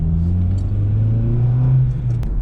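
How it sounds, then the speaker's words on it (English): An Acura RSX fitted with new coilovers accelerates on a street test drive, its mid-pitched engine droning and rising steadily with road rumble, close and loud throughout with no talk. "we're finally ready for the test drive"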